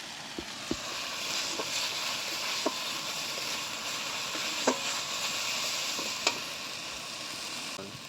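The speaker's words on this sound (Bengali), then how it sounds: "এবার আমি মশলা ভালো করে কষে নেব" Spices being stir-fried in hot oil for an okra curry, a steady sizzling hiss with occasional clinks of a spoon against the pan, close and continuous.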